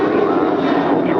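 A United Airlines Boeing 737-900ER departs for Washington Dulles, a brief, loud, steady jet roar with voices faintly mixed in.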